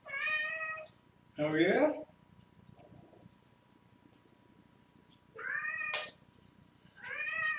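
A cat meows loudly and insistently several times in drawn-out, wavering calls, with a short spoken exchange from a person between the cries.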